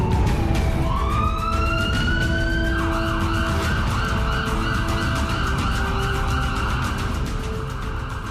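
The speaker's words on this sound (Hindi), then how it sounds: "चीन का जिंगशी शहर, जहां सायरन बजाती पुलिस की गाड़ियों के पीछे एक लाल रंग का ट्रक देखिए।" Police cars escort a red truck through the city of Jingxi, China, their sirens wailing loud and continuous with rising and falling tones over a steady rumble of engines and road noise.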